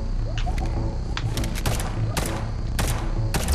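Gunfire in the dystopian action-platform game Liberated Enhanced Edition, with sharp shots cracking out in scattered bursts over a continuous low game backdrop, some arriving in quick doubles and others standing alone.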